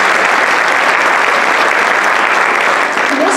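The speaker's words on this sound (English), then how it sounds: "So if we can give them a round of applause." An audience in a school event hall gives a round of applause for two administrators, dense steady clapping from many hands that fills the room from start to finish.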